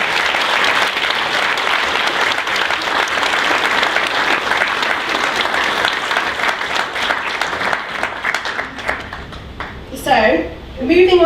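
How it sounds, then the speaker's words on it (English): Sustained applause from a charity event audience, dense clapping running steadily for about ten seconds before thinning out, with a few voices rising near the end. "if you don't mind just joining me in a round of applause"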